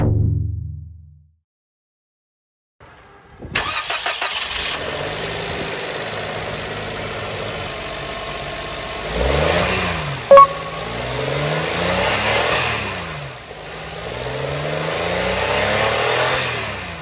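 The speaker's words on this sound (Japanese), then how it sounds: "まずは近所迷惑にならない程度に少しエンジンを吹かしてみましょう" Turbocharged Suzuki Hustler MR52S 4WD engine revved in short bursts after an air filter and intake hose swap, several rising and falling revs over a steady idle, close and fairly loud.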